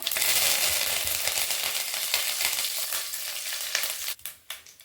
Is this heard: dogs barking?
no